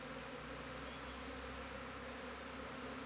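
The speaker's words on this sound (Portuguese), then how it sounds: "O enxame desce." An arriving swarm of Apis honey bees makes a dense, continuous buzz of many wings that stays steady throughout, with no voices.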